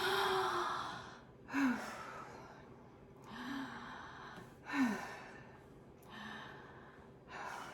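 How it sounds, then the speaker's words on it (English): A child takes a series of deep breaths, each long noisy exhale followed by a quick audible inhale, repeating in a slow rhythm close to the mic; a faint adult voice joins briefly. "I'm ready to do my deep breaths"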